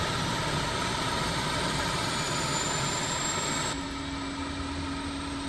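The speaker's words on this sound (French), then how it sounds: "Par contre, le bruit des moteurs est très bien reproduit." A steady, loud whine and roar of Mitsubishi MU-2 aircraft engines in a flight simulator game, running continuously, with the pitch shifting slightly partway through.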